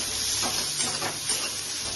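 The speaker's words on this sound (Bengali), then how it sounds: "মিষ্টি কুমড়োগুলো ভাজা হয়ে যাচ্ছে" Pumpkin pieces fry in a pan for a Bengali prawn and pumpkin chutney, giving a steady close sizzle with soft stirring scrapes and no voices.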